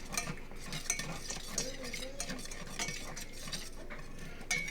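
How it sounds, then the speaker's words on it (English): A whisk works milk into a flour roux in a pan, a continuous soft scraping and swishing with small metallic ticks against the pan, quiet and steady with no talking. "you're just going to keep whisking until there's no lumps"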